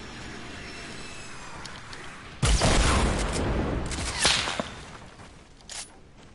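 Gunfire in the video game Fortnite, with a burst of loud shots, then a couple of sharp cracks and a fainter pop, over a quiet background hum.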